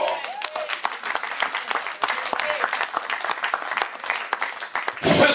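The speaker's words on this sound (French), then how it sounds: "On l'acclame très fort" A church congregation claps and cheers loudly during a sermon, sustained dense applause filling the space throughout, swelling again at the end, with voices mixed into the crowd noise.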